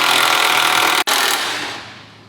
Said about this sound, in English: Next step, you'll remove the 18mm bolts.